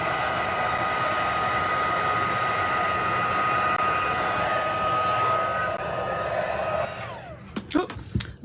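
A heat tool melting embossing powder blows with a loud, steady whooshing hiss for about seven seconds. It then winds down and gives way to a few close handling clicks.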